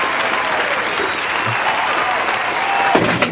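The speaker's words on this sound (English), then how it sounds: "give a round of applause for yourself" A dense, loud round of applause from an awards-show audience carries through the whole moment. A brief voice cuts in near the end.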